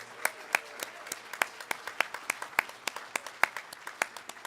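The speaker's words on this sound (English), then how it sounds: "Can we get some applause for Portland Neighbors Welcome?" Scattered clapping from a modest crowd, individual claps distinct and fairly regular, fading slightly in intensity throughout.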